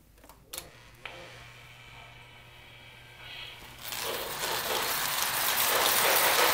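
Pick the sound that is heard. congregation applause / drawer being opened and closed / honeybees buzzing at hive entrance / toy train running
toy train running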